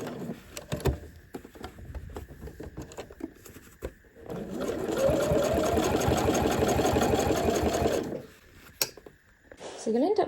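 Sewing machine running steadily for about four seconds as it stitches around the edge of a fabric bag, a continuous close whir, with quieter handling noises before and after.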